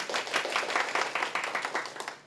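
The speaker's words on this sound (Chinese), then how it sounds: "速战速决，股民拍手散会。" Shareholders clap together as the Largan Precision annual meeting closes, a brief, dense burst of many hands in a room, fairly loud and steady before trailing off.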